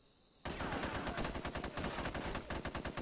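AK rifle gunfire in the SOCOM video game bursts in abruptly after a quiet moment, then sustained rapid shots rattle on loud and close, with no voices over it.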